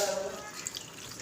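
Water pours steadily into a pan of frying chicken gravy, a soft continuous splashing and trickling heard up close, with faint background noise.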